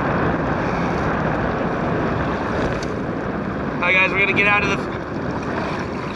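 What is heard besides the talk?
strong wind over river water while boating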